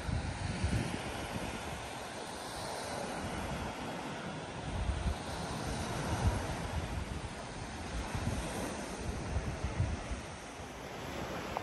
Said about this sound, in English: you can see the surf's not that bad